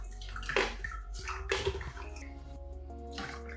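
Logwood pieces go into a pot of hot dye bath water over low heat, setting off splashing, sloshing and dripping up close, with a couple of louder splashes among steady trickling.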